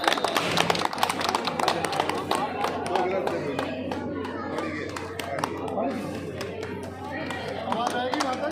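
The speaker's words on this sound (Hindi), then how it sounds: "ताली कौन बजाएगा? ताली।" Audience at a retirement party in Madipur village clapping steadily, a dense patter of hands under ongoing chatter and someone talking over a microphone.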